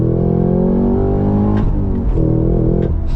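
Cabin view of a Cadillac CT5-V Blackwing on its stock exhaust: a loud, steady engine drone rises in pitch, briefly dips at gear changes, then climbs again, with no talking over it.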